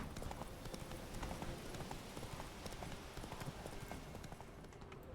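Hooves of Roach, a horse in the video game The Witcher 3, clip-clop in a quick steady rhythm, fairly close, over a dense ambient bed with no talk.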